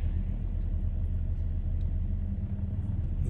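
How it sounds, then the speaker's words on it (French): A car passing inside an underground parking garage, heard as a steady, loud low rumble of engine and tyres that fills the enclosed concrete space with no voices. "nous allons quand même marquer un temps sous cette antenne, tout simplement parce qu'une voiture va nous passer devant"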